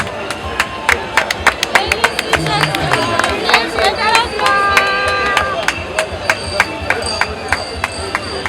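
A group claps in a quick, regular rhythm at a martial arts academy event handing out school kits, with crowd voices and chatter mixed under the sharp, steady claps.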